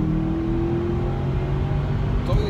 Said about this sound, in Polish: niektórzy chcieć posłuchać, jak to burczy i warczy, bo to właśnie w tym samochodzie jest najlepsze